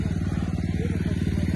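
A motorcycle engine putters in a rapid, steady rhythm at close range while the rider pulls a wheelie, a person talking faintly underneath.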